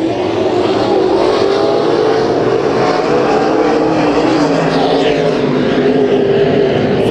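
Race cars roar around the oval together during a heat race at Kings Speedway, a loud, steady engine drone that never lets up, with no talk over it.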